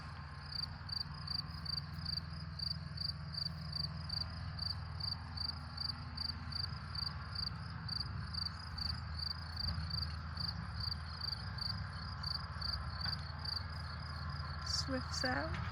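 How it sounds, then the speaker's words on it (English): Crickets on a Portuguese farm chirp through a hot 28°C evening in a steady, fast pulsing trill that repeats evenly throughout, fairly faint and distant, over a quiet low background hum with a brief extra sound near the end. "crickets were really noisy."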